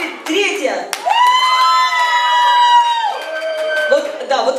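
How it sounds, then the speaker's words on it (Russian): A trio of players in a group game claps and cheers, with whoops and sharp hand claps over a loud, continuous crowd of shouting voices lasting several seconds. "И, наконец, аплодисменты третьей тройки игроков."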